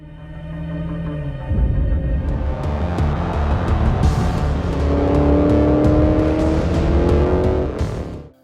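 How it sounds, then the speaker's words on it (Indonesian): A car driven in a hurry in a film scene, a loud engine revving and accelerating steadily with sharp clicks and a musical score underneath. "seorang pria yang sedang mengendarai mobil dengan terburu-buru"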